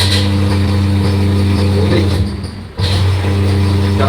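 A single-phase induction motor runs clockwise with a steady, loud electrical hum and drone. The hum dips briefly and then recovers.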